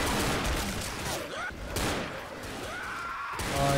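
Gunfire in the zombie shooter Left 4 Dead, in a hospital setting. Dense, continuous shooting sits fairly low in the mix, blended with other game noise.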